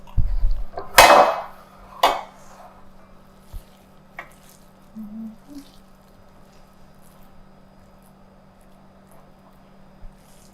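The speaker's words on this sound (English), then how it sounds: "I will go ahead and put it into the pans" Mixed meatloaf mixture is spooned into a large muffin pan in a kitchen: a couple of wet squishy plops and metal clinks in the first seconds, then a few faint taps before near quiet.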